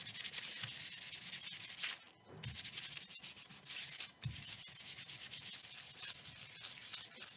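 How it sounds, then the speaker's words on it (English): Inked collagraph printing plate polished by hand with steady, continuous rubbing strokes, a dry scrubbing texture with brief pauses as the motion changes direction, close and moderately quiet. "now we're polishing"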